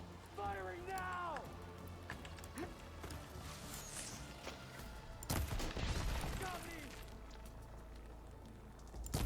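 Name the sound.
gunfire in video game Horizon Forbidden West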